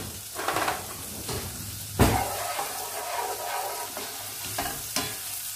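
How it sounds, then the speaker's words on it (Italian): Pancetta frying in a pan for fusilli with zucchini. A soft, steady sizzle runs throughout, broken by a few louder stirring scrapes and clinks from the pan. "Faccio colorare appena appena la mia pancetta."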